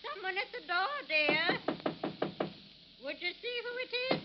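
Firm, rapid knocks rap on a door in a radio drama scene, a quick series of sharp raps heard between stretches of conversation.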